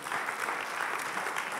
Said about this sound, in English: you can go ahead and give God a hand clap for that